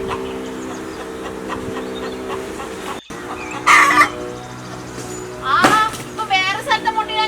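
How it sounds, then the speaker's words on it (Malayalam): A hen perched in a kitchen hearth to lay eggs clucks and calls repeatedly nearby, with voices talking in the background. "അവിടെ കോഴി അടുപ്പിൽ മുട്ടയിടാൻ വേണ്ടിയിട്ട് കയറിയിട്ടുണ്ട്."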